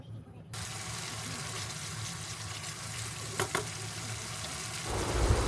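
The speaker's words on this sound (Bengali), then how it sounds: "গুঁড়ো মশলাগুলো নেড়ে চেড়ে মিশিয়ে দিতে হবে মিশ্রণটার সঙ্গে।" Ground spices are stirred into a sizzling frying mixture for white dum aloo, giving a steady, close hiss of oil with a few soft scraping clinks and a louder stir near the end.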